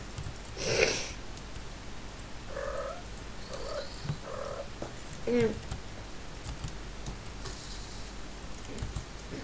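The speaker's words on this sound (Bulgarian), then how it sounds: "Ако чуете нещо, това от тъпата ми котка." A soft purr comes and goes close by, with a few sniffs and small ticking noises scattered through an otherwise quiet room.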